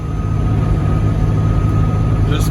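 Cummins-powered Ford F350 pickup cruising on the road while towing cattle and hay, a steady low diesel drone and road rumble held at an even level throughout, close and continuous.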